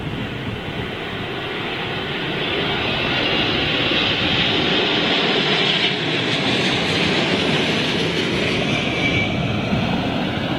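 An airliner landing on runway 27L at London Heathrow during Storm Ellen roars loudly and steadily, its engine noise mixed with strong wind rumble, swelling slightly as it passes close by.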